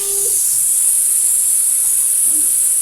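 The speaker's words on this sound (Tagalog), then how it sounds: "Nilalagay ko na din yung ating bawang at sibuyas para may sabay na din magigisa dito sa ating chicken." Garlic and onion sautéing with chicken in a hot pan for a homemade pancit, a loud steady sizzle and hiss that runs without break, close by.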